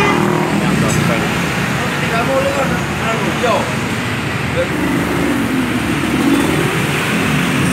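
A Dongfeng single-cylinder diesel engine with electric starter runs steadily after starting, producing a loud, continuous rumbling drone that fills the whole clip, close by with no breaks.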